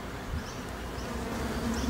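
A honeybee chewing its way out of a hive in a palm tree buzzes in a close, steady drone, alone and fairly soft.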